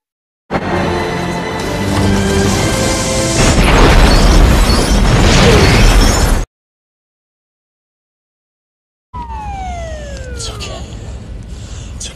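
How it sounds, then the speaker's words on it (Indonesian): A bus explodes in the film Speed: a dramatic cinematic explosion with a loud booming blast over swelling music, then sudden silence before faint sirens and sweeping effects return. "Sedangkan bis tersebut meledak tak lama setelah mereka turun."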